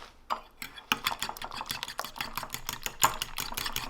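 Egg mixture with sprinkled Parmesan cheese being whisked for a roast chicken omelette, a quick steady run of light clicking utensil strokes against a bowl, fairly close and moderately quiet, with no voices.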